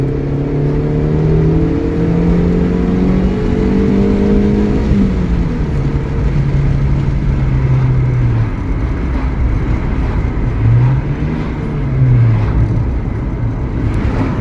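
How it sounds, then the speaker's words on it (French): A 90-horsepower Honda Civic engine revs loudly and steadily, pitch climbing, dipping and rising again over about fourteen seconds, close by. "Ça marche super bien pour 90 chevaux, c'est nerveux dans les tours."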